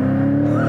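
A Porsche 718 Cayman GTS in Sport Plus mode, its exhaust louder after an automatic downshift, gives a steady, close, deep droning engine note that holds even throughout the short moment.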